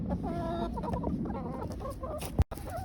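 Several backyard chickens, hens, cluck and murmur close by in a steady, busy chatter, ending with a sharp click.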